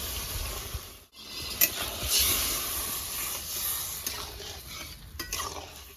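Water poured into a hot pan of catla fish curry gravy on a clay stove, producing a continuous loud hissing sizzle with faint clinks of utensils, close and steady throughout.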